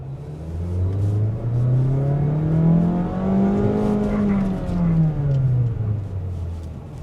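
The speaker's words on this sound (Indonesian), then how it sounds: "Salah satu mesin 4 silinder yang dijual di Indonesia dengan suara yang enak." A Mazda CX-30 four-cylinder engine revs up and holds high, then winds back down, with a deep, bassy tone, close and loud throughout.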